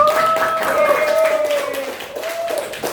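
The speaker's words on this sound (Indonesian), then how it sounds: "jadi kita tepuk tangan sekali lagi buat kalian" Students in a classroom lesson clap their hands together as a group, the patter running steadily under loud, sustained voices calling out for about three seconds.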